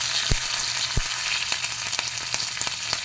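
Curry leaves and green chillies sizzle in hot oil with a steady, bright frying hiss, punctuated by a few sharp pops and spatters, close up and without any voices.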